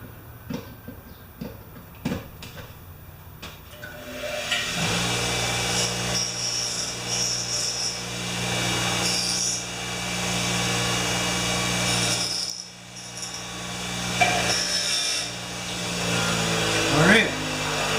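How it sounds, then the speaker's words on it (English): An angle grinder whines continuously during a Craftsman ratchet repair after a few quiet handling noises. The steady motor drone is close and loud, with brief dips as it is loaded and eased off. "Gotta plug the grinder in."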